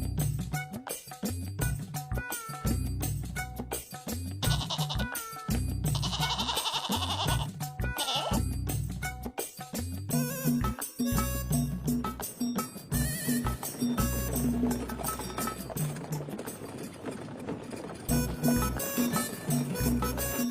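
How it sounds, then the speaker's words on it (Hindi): Goat bleating in a Hindi cartoon story, repeated wavering bleats over a loud busy musical backdrop, close and prominent. "उस बकरी को जग्गू से ऐसे प्यार करते देख जग्गू उस बकरी को उठाकर अपने घर की ओर निकल जाता है।"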